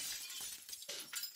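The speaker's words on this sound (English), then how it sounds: "I can break the glass" Glass shatters in the horror video game Cursed Bet, a few quick crashing bursts with bright tinkling fragments, close and fairly faint, with no voices.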